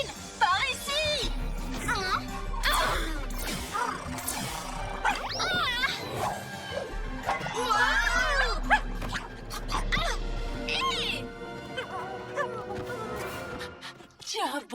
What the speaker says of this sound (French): Tu es un bon chien, toi.